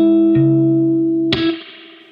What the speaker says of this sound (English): with our picking hand, we're going to be hitting the strings